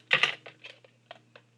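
Scissors snip through paper while making a gold foil and greenery gift card holder, several crisp, close cuts in quick succession, the first ones loudest, then a few softer snips.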